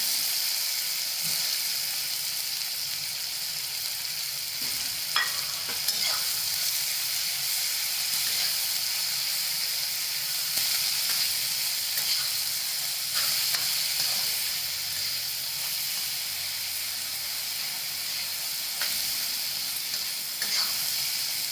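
Spring onion paste sizzling loudly in a hot pan while being stirred, a continuous bright frying hiss broken by scattered scrapes and clinks of the spoon throughout.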